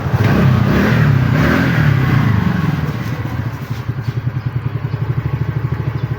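TVS Ntorq 125 scooter after throttle body cleaning, ECU reset and RPM retune, its engine revving loudly up close, then settling into a steady, pulsing idle.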